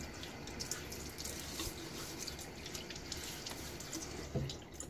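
Tap water runs into a bathroom sink as a face is splashed wet before a wet shave, a steady rushing with small splashes, close and soft, with no voices.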